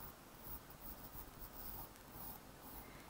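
A pencil sketches circles in a sketchbook with a series of short lines, a soft, close scratching and scraping of graphite on paper that continues quietly and steadily.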